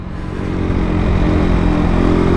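A motorcycle-like vehicle ridden along a winding zigzag road in Batangas, its engine droning steadily and rising slightly at the start, with wind rumble and no talking.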